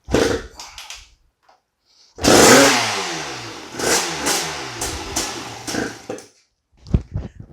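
A Honda TRX250R ATV two-stroke engine, just fixed after a timing problem, fires up loud and close and revs hard in repeated sharp bursts for several seconds, then drops off before brief blips at the end.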